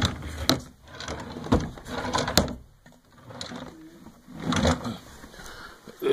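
Wooden furniture drawers are pulled open and pushed shut in a house being inventoried, a series of close knocks, slides and thumps in an irregular rhythm.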